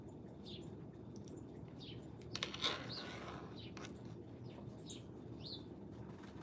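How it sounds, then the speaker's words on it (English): Two cardinals give faint, scattered chirps spread through the clip, sitting above a steady wash of background noise. "It's two cardinals"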